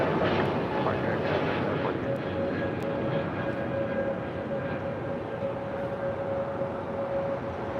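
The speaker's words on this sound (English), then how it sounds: "It's an Airbus A220-300 taking off with Air Canada." An Air Canada Airbus A220-300 takes off at LAX, a loud, broad jet roar with a steady whine that holds throughout, gradually easing as it pulls away.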